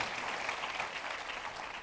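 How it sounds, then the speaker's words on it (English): Church congregation clapping hands together during a worship service, a dense, steady wash of applause held at even loudness throughout with no voices over it. "Let us give a mighty hand clap to the promise"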